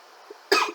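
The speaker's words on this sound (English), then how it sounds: "Sorry, I'm still having a cough." A single sharp cough from a man with a lingering cough, close to the microphone and abrupt, after a brief quiet throat sound.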